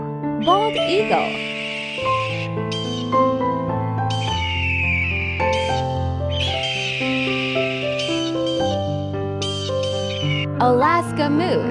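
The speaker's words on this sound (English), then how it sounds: "Bald eagle." A bald eagle gives several high, shrill, chattering calls in separate bursts, fairly loud above continuous background music.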